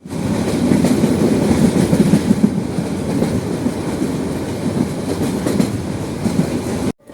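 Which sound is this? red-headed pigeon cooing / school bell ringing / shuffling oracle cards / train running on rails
train running on rails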